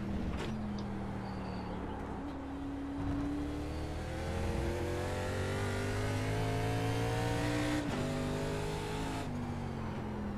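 ARCA stock car engine at Suzuka in the iRacing simulator, revving steadily through rising and falling gear changes, a continuous mid-pitched engine drone with several shifts, heard alone without talk.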